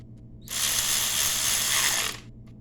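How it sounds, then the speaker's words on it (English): A 3/8 ratchet tightens a nut during a one-piece rear main seal job, producing one continuous rapid clicking burst of about a second and a half, close and clear. "Alright, so we take the 3/8, tighten it up."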